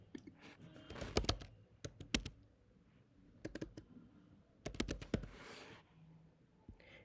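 Keys tapped on a computer keyboard in short bursts of clicks, close and fairly quiet, with pauses between clusters, no voices present.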